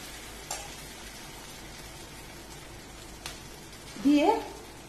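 Appam batter ladled into an oiled pan sizzles in a steady, soft hiss, with a few sharp clicks and a louder burst of frying near the end.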